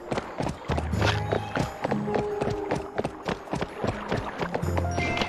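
Rhythmic horse hooves clip-clop in the PS2 game Barbie Horse Adventures: Wild Horse Rescue, steady and fairly close over bright game music and effects, with no talking.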